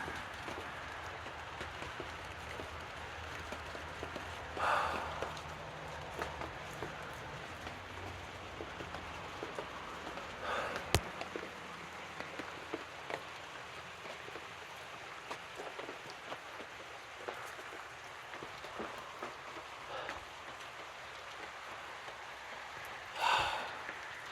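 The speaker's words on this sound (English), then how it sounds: "it is raining" Steady rain falls on and around an unfinished roof, a constant soft hiss throughout, with a few louder drops or knocks standing out briefly.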